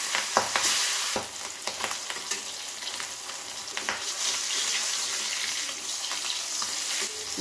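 Katla fish frying in hot oil, a dense crackling sizzle close by with sharp spits and pops clustered early, then settling into an even hiss, with no one talking.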